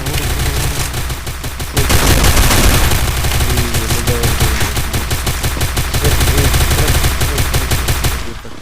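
Rapid gunfire from the mobile battle game Free Fire, dense bursts of automatic shots rattling loudly and continuously with short pauses, filling the whole stretch with no talking.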